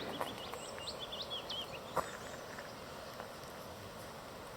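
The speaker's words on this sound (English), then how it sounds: "All you can hear is birdsong" Faint birdsong drifts across open country on the Kintyre Peninsula during a walk, with a few thin, distant chirping phrases over a soft outdoor hiss and one brief click.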